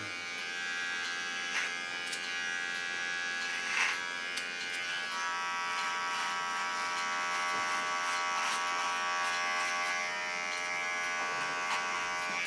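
A steady electric shaver buzz runs throughout, with brief louder crackles as it cuts through hair, close to the microphone and with no talking.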